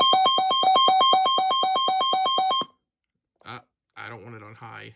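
A weather radio's alert tone, set to low volume during a test, sounds as a rapid, steady train of sharp beeps for under three seconds, then stops abruptly before a person starts talking.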